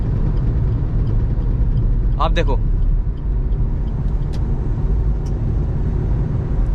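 Steady low road rumble inside a CNG-fitted Maruti Ignis cabin while driving, with a brief burst of speech near the middle and a few faint high ticks or rattles from somewhere in the cabin.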